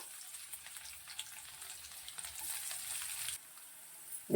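Garlic and seasoning seeds frying in hot oil in a home kitchen for a gourd chutney, a soft continuous sizzle with light crackles and stirring, close and quiet, before a sudden louder clatter at the end.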